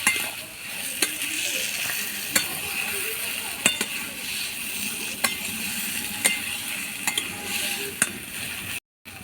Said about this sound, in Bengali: একটু সময় করে অল্প আঁচেতে ভালো করে ভেজে নিতে হবে